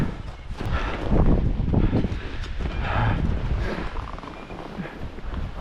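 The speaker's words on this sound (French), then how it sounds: "On entend le vent souffler pas mal là." Wind blows hard across Mount Washington, a loud rushing broadband roar that swells and eases in gusts, buffeting the microphone continuously with little else audible.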